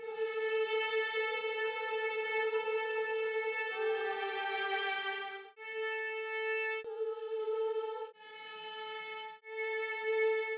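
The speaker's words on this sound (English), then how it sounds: "Then for the uplifting section, I added strings, which sounds like this." Sustained synth strings carry the uplifting section of a modern progressive house track: loud, bright held chords that shift pitch a few times, with brief gaps between the sections and no percussion.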